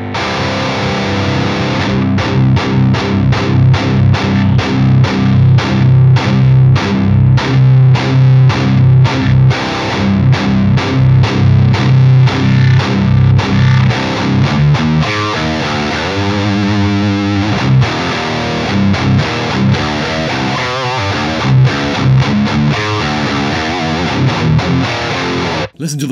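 Heavily distorted electric guitar recorded through a DI box, loud chugging palm-muted riffs in a driving rhythm, then sustained ringing chords and fast picked passages, continuous and close with no talking.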